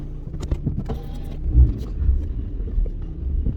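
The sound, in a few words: Rover 75 car starting up for a test drive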